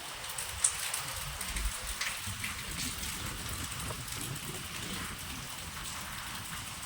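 Wind-driven rain with swaying trees near a freshly swept front yard, a faint continuous patter and hiss with low rumbling gusts, steady throughout and without talking.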